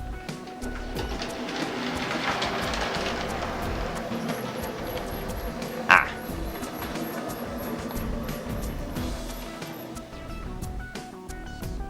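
A small model P Class tank locomotive hauls three coaches around a layout loop, giving a steady close mechanical whir with faint high motor whine and one sharp click midway, no talk.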